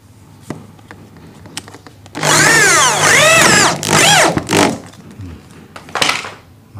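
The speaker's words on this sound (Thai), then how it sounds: "ใช้เกลียวปล่อยอัดเข้าไป พร้อมกับตะปูตะปูลูกปืน" A power drill drives a self-tapping screw into an oversized, loose hole, with nails packed in to make it grip. The motor whines in two loud, rising and falling bursts lasting a few seconds, followed by a short, quieter spurt.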